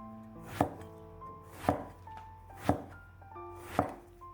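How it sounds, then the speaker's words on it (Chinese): Knife chopping an eggplant into rolling-cut chunks on a cutting board: four sharp, evenly spaced thuds about a second apart, close and clear with nothing else over them. "茄子洗净之后，放在案板上，将头尾切掉，再给它切成滚刀块"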